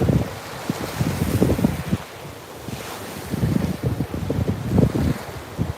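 Calm surf rolls in at Fort Myers Beach in Florida with steady wind buffeting the microphone. Low, rumbling gusts rise and fall irregularly over a constant wash of water, and no one is talking.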